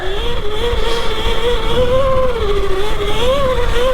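A Surron Light Bee electric dirt bike with a motor and chain conversion kit whines steadily while doing eco-mode wheelies, its pitched motor tone rising and falling close by and loud.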